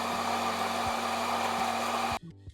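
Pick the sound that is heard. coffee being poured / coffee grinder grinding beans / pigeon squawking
coffee grinder grinding beans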